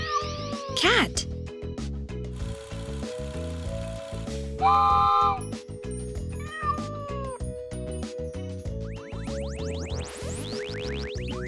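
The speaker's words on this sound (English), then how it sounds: "Cat." A cartoon cat meows several times, with drawn-out, wavering cries over playful children's music in a farm-animal learning cartoon, close and prominent.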